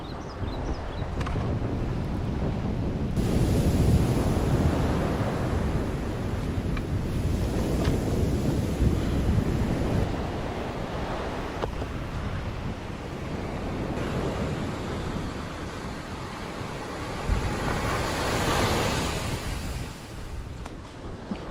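Ocean waves roll and wash onto a remote island shore as the tide rises, a steady broad surge of surf with wind noise, loud and continuous with swelling peaks and no voices.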